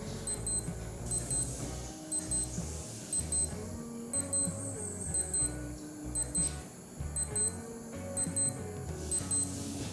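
A Casio AE-2000W digital watch alarm beeps in quick repeated bursts of high chirps, a steady rhythmic pattern that is fairly soft and close.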